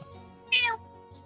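A house cat gives one short meow in the middle, over a steady low hum and faint background noise in a room.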